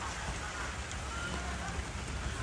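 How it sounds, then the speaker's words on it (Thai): Rain falls steadily outdoors in a continuous broadband hiss, fairly loud and unbroken, with no clear voices over it. "โอ้ยฝนตกครับบรรยากาศ"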